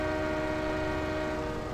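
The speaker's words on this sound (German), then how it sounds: "So, da kommt wieder der Zug." A train in the Landwirtschafts-Simulator 17 farming game sounds a long, steady horn as it passes, loud and unbroken, with the rumble of the rails underneath.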